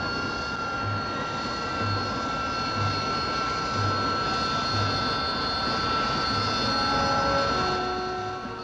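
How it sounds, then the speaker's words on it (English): A Kestrel jump jet lands vertically with a loud, sustained engine roar, its tones steady and droning throughout, and no voices over it. "the Kestrel lands on it vertically"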